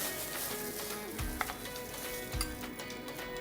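Potato fritters with mozzarella, coated in egg, sizzle steadily in hot oil, a continuous close crackle with a couple of soft bumps as pieces shift in the pan.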